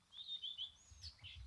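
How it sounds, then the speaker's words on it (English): Birdsong on the quiet island of Iwo Jima: a few faint high chirps and short whistled notes, distant and soft over a low rumble of wind or ambience. "the only thing disturbing the silence is the sound of birdsong"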